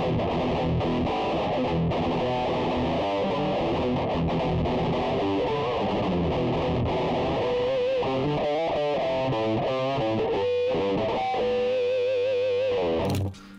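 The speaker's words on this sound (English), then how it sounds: "So this one sounds really distorted and really even almost metal-like through your headphones" An electric guitar played through a headphone amp with heavy, almost metal-like modern distortion, loud and continuous riffing and chords with no talk, ending abruptly.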